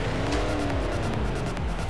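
A Ford Transit van roars at full throttle in the racing game Forza Horizon 4, its engine loud, close and continuous throughout with no talking.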